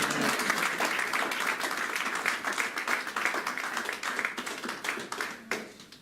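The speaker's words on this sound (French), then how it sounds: "Acclamons Jésus." A church congregation bursts into sustained, dense applause acclaiming Jesus during a prophetic sermon, steady and loud throughout before thinning slightly near the end.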